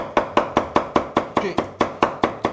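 A knife chops green onions rapidly on a cutting board, about a dozen crisp, evenly spaced thuds in quick succession, close and loud.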